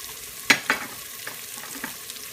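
Beef curry cooking in a pan, heard as a soft low sizzle with a couple of sharp close clinks and scrapes of a utensil near the start, then fainter stirring noises, no speech.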